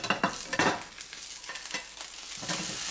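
An omelette sizzles and fries in a frying pan, a steady crackling hiss with a few soft scraping stirs near the start, heard up close with no voices.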